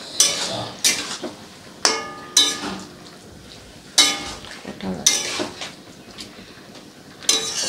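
A spoon scrapes and knocks around a pan of drumstick curry, irregular close clanks and scraping strokes every second or so, with a voice speaking briefly between them.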